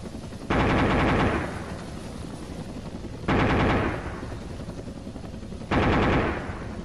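A helicopter's rotary weapon fires three long bursts, each a dense, roaring buzz lasting about a second and fading into a steady background drone between bursts.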